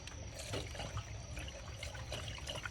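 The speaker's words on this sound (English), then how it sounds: "Now you're gonna take your Toyota coolant and start pouring it in, guys." Toyota coolant trickles steadily into the reservoir of a 2017 Toyota RAV4, a continuous soft pour with gentle splashing, close up but quiet, with no one talking.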